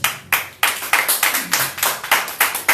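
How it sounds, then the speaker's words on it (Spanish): Rhythmic hand clapping from a church congregation praising, steady beats about every quarter second, fairly loud and close, with no talking over it. "Dale palmas de alabanza al Señor."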